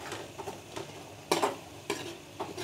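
A spoon scrapes and stirs thick potato halwa made with milk in a pan over a medium-low flame, with soft irregular scraping strokes and a few louder clanks against the pan, faint and close.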